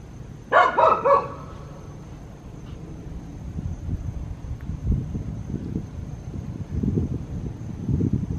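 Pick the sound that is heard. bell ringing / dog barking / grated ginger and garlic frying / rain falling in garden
dog barking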